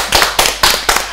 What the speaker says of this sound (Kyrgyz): Келгиле кол чаап колдоп туралы